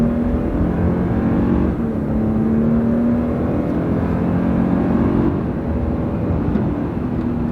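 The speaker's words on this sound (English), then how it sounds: "The turbos are kicking in." A 389-horsepower turbocharged Toyota accelerates hard on a straight road, its engine a steady, loud drone with a rising tone that holds throughout, heard from inside the car with no talking.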